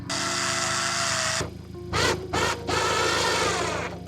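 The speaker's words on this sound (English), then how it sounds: "Just go ahead and drill in the 2 screws down here." A power drill drives screws to mount side skirts on a 2025 Honda Civic Si, a loud whirring motor run followed by short stop-start bursts, close up and without talk.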